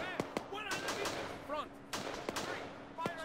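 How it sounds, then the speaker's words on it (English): Sporadic gunfire in a Second Korean War video game: scattered single shots and short bursts cracking at irregular intervals, some near and some more distant, with someone talking over them. "I'm just hearing sporadic gunfire"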